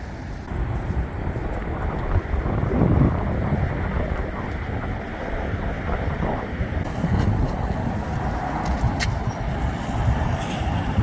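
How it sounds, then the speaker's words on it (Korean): Strong wind blows at Hujin harbour on Korea's east coast, a continuous loud rumble buffeting the microphone with gusts and faint surf or traffic beneath, no talking. "바람이 좀 세네요"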